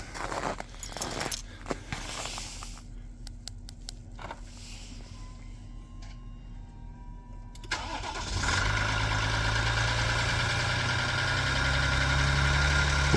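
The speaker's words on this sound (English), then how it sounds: "So first let's see how this engine starts." A large Ram EcoDiesel engine, kept on a dry-type block heater overnight, cranks over in cold weather after a few quiet seconds of clicks, catches, and settles into a loud, steady rumbling idle.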